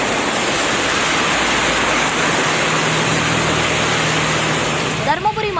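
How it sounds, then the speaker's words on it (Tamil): Heavy rain falling after dark clouds gathered, a dense, loud, steady roar through the whole stretch, easing slightly at the very end as a faint passing sound rises over it. "நேற்று மாலை திடீரென கருமேகங்கள் சூழ்ந்து மழை பெய்ய தொடங்கியது."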